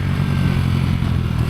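A highly modified Kayo MR125 pit bike engine pulls hard under acceleration at a kart track, a steady, close, low buzzing drone with a clattering rasp that holds level throughout the short burst.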